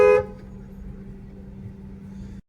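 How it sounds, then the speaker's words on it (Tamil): A car horn gives one short honk at an auto rickshaw in Chennai traffic, followed by a steady low engine hum from inside the car with no talk. "மறுபடியும் ஆட்டோவுக்கு ஹார்ன் அடிக்கலாம்"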